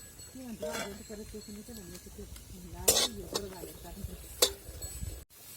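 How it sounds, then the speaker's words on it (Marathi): Onion fries in a pan with a soft sizzle while a spoon stirs and clinks against the metal, as someone talks over the cooking. "आता कांदा टाकून देते कांदा आपल्याला चांगला भाजून घ्यायचा आहे"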